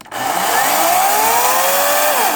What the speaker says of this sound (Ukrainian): Так, тестуємо пилочку.